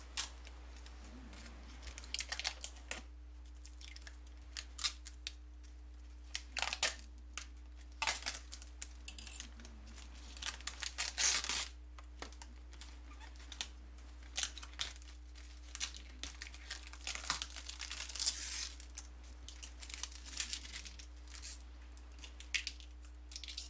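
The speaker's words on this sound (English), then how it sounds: "peeling back the film on the pickguard" Protective plastic film peels slowly off a Fender Stratocaster pickguard, with close, quiet crinkles and intermittent tearing rustles in short bursts separated by pauses.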